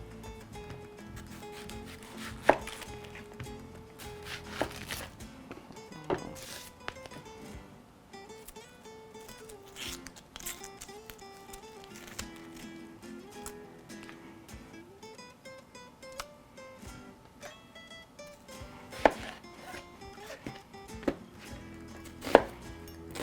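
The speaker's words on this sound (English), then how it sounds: "We can just chop this into a few pieces, toss it in." Hot peppers being chopped into pieces on a cutting board for gazpacho, with irregular knife taps and thuds spread across the stretch, close and fairly quiet, no talk.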